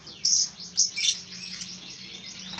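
A caged songbird, shown off as a prized bird, gives a few bright, high chirps in quick bursts near the start, close and clear over a faint low background hum.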